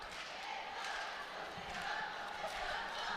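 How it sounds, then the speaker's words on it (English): A crowd fills an arena at a 2013 Division 4 competitive cheer finals, giving a steady, moderately loud roar of mixed voices with no distinct claps or breaks. "Take a look at the crowd here. They're getting into it now."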